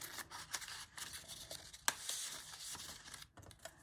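Small paper scraps for a junk journal being trimmed with scissors, faint crisp snips and light rustling, quiet and close, with one sharper click in the middle.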